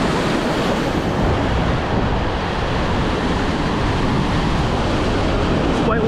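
Ocean waves breaking into white-water surf during a fishing outing, a loud continuous roar and wash with wind buffeting the microphone throughout.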